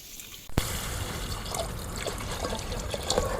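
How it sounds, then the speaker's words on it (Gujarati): Water splashes into a pan of bitter gourd (karela) curry gravy after a sharp clunk, pouring and trickling steadily and close. "પછી પાણી નાખી દઈએ. આમાં ગ્રેવી મસ્ત થઈ જાય."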